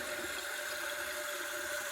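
A yellow 1977 Briggs Abingdon toilet tank refilling after a flush on a test stand, a faint, steady hiss of water flowing in with a constant tone and no talking.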